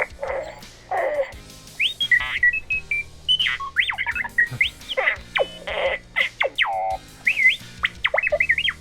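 An R7 astromech droid toy chirps and beeps in quick bursts of rising and falling whistle-like tones, irregular and lively, some tones sliding up or down, close and clear with no speech over them.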